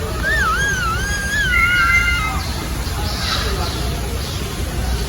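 A bird in Queen Elizabeth Park whistles a few clear, sliding tonal phrases early on, fairly close. Steady outdoor background noise continues underneath, and the whistling fades out partway through.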